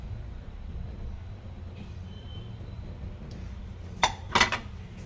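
Roasted spices for kuzhambu powder are moved into another tray: a few brief metallic clinks and scrapes of utensil against pan near the end, over a steady low background hum.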